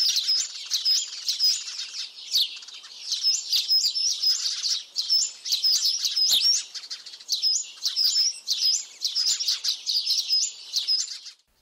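Sparrows chirp continuously in dense, overlapping bright tweets, steady and fairly close, with no voices.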